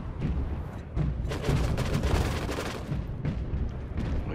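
Rapid bursts of gunfire from the video game Allmighty: Kill Your Gods, a dense, loud volley of overlapping shots and booms sustained across the moment with no talking.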